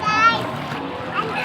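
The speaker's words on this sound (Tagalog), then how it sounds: "Magligo-ligo si Zaira sa dagat guys." A child splashes while bathing in the sea, a short burst of water spray mixed with a young voice speaking up close.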